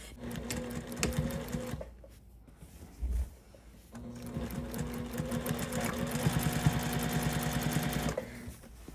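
A home sewing machine stitches quilt binding in steady motor-driven runs, its needle clatter loud and close, broken by a short pause before it starts up again.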